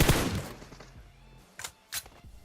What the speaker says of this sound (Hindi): इतने में ही वहां पे गोलियां चलती हैं जहां पे हम लोग उतरे थे पहले